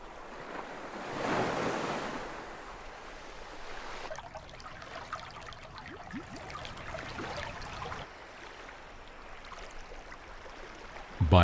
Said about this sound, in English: The tide, checked by the seashore, produces wave after wave.